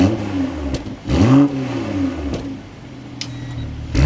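BMW M240i engine firing up and revving, sharp starter burst then a loud rev that swells and falls, followed by further blips and a settling idle, close and prominent.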